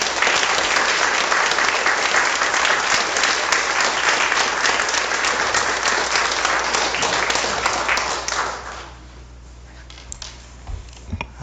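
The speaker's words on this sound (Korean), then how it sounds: "우리 감사하는 마음으로 우리 목사님 박수로 환영하도록 하겠습니다" A church congregation applauds steadily for about eight seconds, welcoming a pastor, the clapping dense and loud, then it fades out into a quiet room with a few faint sounds.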